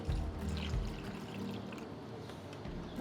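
Water trickles softly into a bowl of tomato paste mixed with black pepper, blue fenugreek and dried coriander, making a brief, quiet pour close to the mic.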